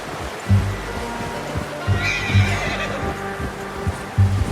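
A horse neighs and snorts in the Red Dead Redemption 2 video game, with a sequence of loud, close whinnies over a steady low rumble of ambient game sound.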